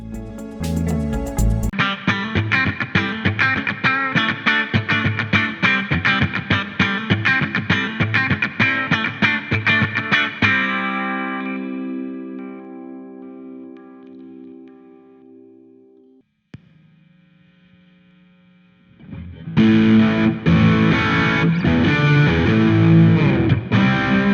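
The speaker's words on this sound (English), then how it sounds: "a quick demo of the guitar so you can get an idea of how the guitar sounds like" A 1979 Fender Stratocaster electric guitar plays a distorted chugging riff, then rings out and fades into near silence before the heavy distorted playing kicks back in.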